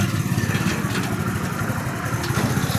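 A small bike-towed trolley vehicle reverses with its engine running, a steady low mid-pitched idle rumble that stays close and even throughout with no speech.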